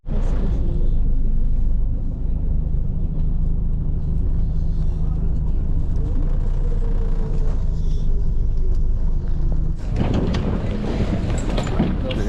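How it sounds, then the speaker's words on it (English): A steady low engine rumble and road noise fill the inside of a moving bus heading to a cruise ferry terminal, with wind buffeting throughout and a louder shift near the end. "now we're on the bus to go to the cruise"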